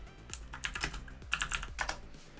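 Someone types a search into a web browser on a computer keyboard, giving a quick irregular run of close, crisp key clicks over a faint background hum, with no voices.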